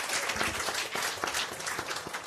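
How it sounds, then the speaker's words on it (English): Steady applause from an arts festival audience at a lunchtime folk concert fills the whole stretch, with dense overlapping claps that stay even and close throughout. "give them a big round of applause for all that they do"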